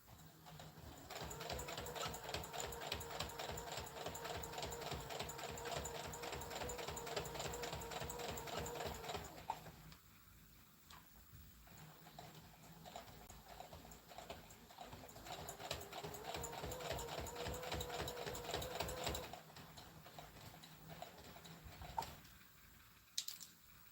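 Sewing machine stitching fabric in steady rapid runs, close and fairly loud, pausing briefly around the middle before another long burst, then quieter handling sounds near the end; no talking.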